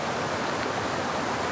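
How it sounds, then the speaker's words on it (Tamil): A rain-swollen stream runs beneath a road through dense Western Ghats forest, giving a steady, broad rushing wash of water that holds constant throughout with no voices. "இங்கே பாருங்கள், கீழே தண்ணி போகுது பாருங்கள்"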